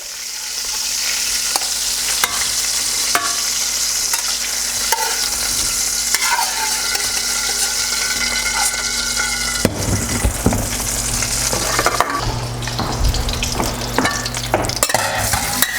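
Shrimp fry in hot oil in a wok with a steady, loud sizzle, broken by occasional scraping clatters as they are stirred and flipped.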